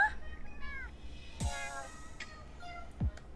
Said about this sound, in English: What is the cat saying?